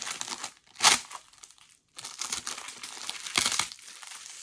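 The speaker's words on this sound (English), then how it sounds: "I'm making so much noise with this fucking tape right now." Packing tape being pulled and crinkled, with bursts of rustling and crackling and a couple of louder tearing surges, close and fairly quiet, no talking.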